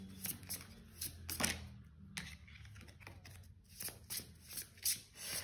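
Tarot cards are shuffled and drawn by hand during a card reading. Brisk, papery riffles and flicks come in irregular bursts, close and fairly quiet, with short pauses between them and no voices.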